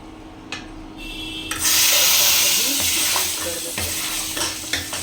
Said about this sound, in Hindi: इसमें सूखी मिर्च डाल लेते हैं, पहले तड़का लगा लेते हैं।